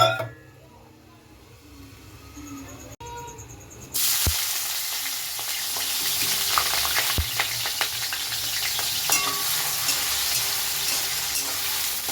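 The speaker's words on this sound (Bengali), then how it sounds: "পেঁয়াজ লঙ্কা রসুনটা দিয়ে দিয়েছি একটু ভাজা ভাজা করে নিয়েছি" Onion, chili and garlic hit a hot pan and break into a steady, bright sizzle after a few quiet seconds with light clinks, the frying continuing evenly with no talk.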